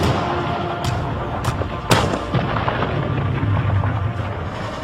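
German artillery shelling the Remagen bridgehead in March: a few sharp, loud blasts ring out early, one heavier boom standing out, all over a continuous low rumble of distant fire.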